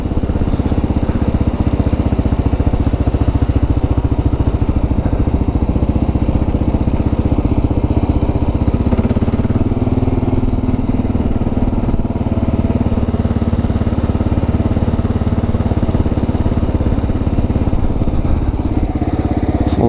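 A 2022 Kawasaki KLR650 single-cylinder motorcycle running on a ride, its engine a loud, steady close thrum with slight shifts in pitch as it moves.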